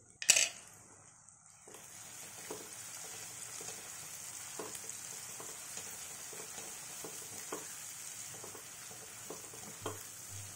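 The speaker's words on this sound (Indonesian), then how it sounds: "kita aduk sampai bumbunya itu tercampur merata dengan udangnya" Ground dried shrimp being stirred into cooked chili spice paste in a pan, a soft steady sizzle with scraping spoon strokes after an initial clatter, heard alone and fairly quiet.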